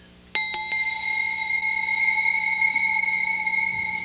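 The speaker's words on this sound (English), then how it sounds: "Upon hearing the ringing of bells signifying that the big guy upstairs is pleased, Agent 88 has received his wings." A bright bell is struck a few quick times, then rings out in a long, clear sustained tone that slowly fades; no voices.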